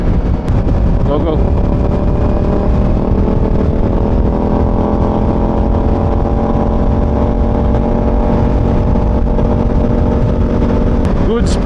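A motorcycle engine drones loud and close through steady wind roar on a windy day ride, its tone climbing slightly as it speeds up to pass oncoming traffic. The drone holds without a break from start to end.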